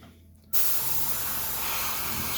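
An airbrush spraying paint on a vintage Eldar Jetbike miniature starts abruptly after a half-second of quiet, then hisses as a steady, close, continuous spray.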